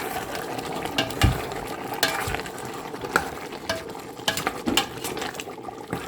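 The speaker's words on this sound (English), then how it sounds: "Give a little stir." Beef pochero with chickpeas and green beans being stirred in a pot, with scattered scraping and clinking of the utensil against the pan over a soft, steady simmering sizzle.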